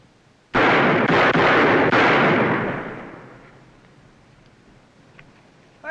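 Gunshots crack in quick succession, several loud close blasts fired within about two seconds, with a long echoing decay trailing off into quiet afterward.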